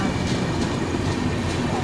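The Mannargudi–Jodhpur Express passes close by while overtaking a waiting train near Itarsi, its carriages making a loud continuous rumbling roar.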